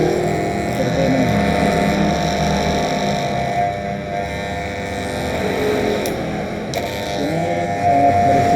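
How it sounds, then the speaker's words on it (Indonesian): A noisy electric hair clipper runs steadily and loudly at close range with a constant motor buzz, its tone dipping slightly midway through. "Ini sangat berisik sekali mesin cukurnya"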